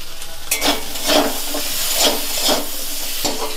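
Boiled potatoes frying and being stirred in a pan with salt, a continuous close crackling sizzle with scraping surges every half second or so.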